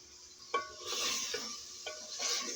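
Spices and tomato roasting in a pan for aloo chicken, with a spoon scraping and stirring through the mix in a few strokes over a steady close sizzle; no talking.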